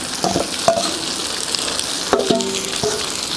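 Raw banana slices frying in a pan, a steady broadband sizzle throughout with a few brief clinks and stirring bumps, close and fairly loud, no talking.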